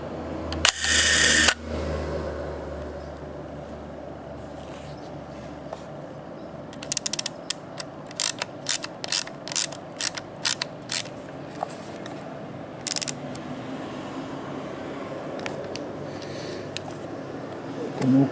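A Leningrad rangefinder film camera's spring-driven automatic winder advances test film in a rapid series of sharp mechanical clicks and ratcheting bursts, close and crisp, after an opening loud rattle and quiet handling.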